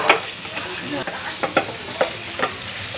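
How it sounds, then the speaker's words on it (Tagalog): Chicken sautés in a pan for ginisang sitaw, with a steady close sizzle broken by repeated scrapes and clicks of a spatula stirring against the pan. "ginigisa ko na yung ating pansahog na chicken"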